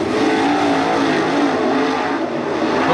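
Late model race cars roar in a dense pack around the Attica Raceway Park dirt oval during a heat race, engines blaring continuously and loudly with steady, overlapping drone and no pauses.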